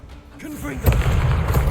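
Confringo spell cast in Hogwarts Legacy inside a catacomb: a brief rising whoosh gives way to a loud, sudden boom that rolls into a sustained rumbling crackle, with faint voice beforehand.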